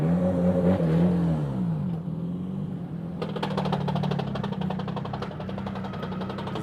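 A Nissan Z33 with its VQ engine drifts on the Gunsai touge, a mid-pitched engine note holding and wavering as it revs, with a raspy edge joining partway through, steady and fairly close, no talk.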